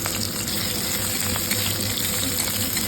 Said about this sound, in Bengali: কড়াইতে আর একটু তেল দিয়ে দিয়েছি। এবার ফোড়নটা আমি দিয়ে দেবো।